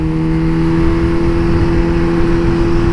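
Suzuki GSX-S 750 motorcycle engine running hard, a loud steady droning tone with constant pitch, close and continuous throughout, no speech.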